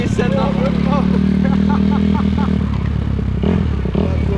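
A dirt bike engine revs hard during a wheelie in a skatepark, a loud buzzing drone with rapid rattling pulses, while voices shout over it.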